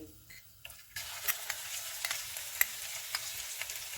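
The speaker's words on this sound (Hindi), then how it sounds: "ऑयल गर्म हो गया, इसमें साबुत मसाला डालेंगे, इसको 30 सेकंड तक फ्राई करेंगे।" Ginger-garlic paste sizzles and spatters steadily in oil after a quiet start, with a few sharp crackles and pops standing out over the continuous frying hiss.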